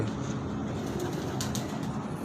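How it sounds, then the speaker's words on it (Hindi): Pigeon coos at night from a distinctive pigeon with a red neck and black tail, low soft calls over a steady murmur of background noise. "इरफान भाई कौन सी कबूतरी है"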